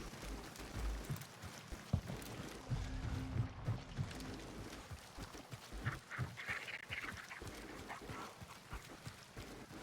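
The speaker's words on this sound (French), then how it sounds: "il y a des canards partout" Ducks quack in the video game Hunt: Showdown over a busy, dense backdrop of game noise, with calls scattered throughout at moderate loudness.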